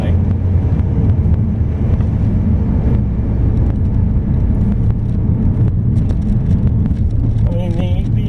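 An MG ZT car accelerates hard in sport mode, a loud sustained engine roar with heavy road and wind noise inside the cabin, and a voice talks briefly near the end.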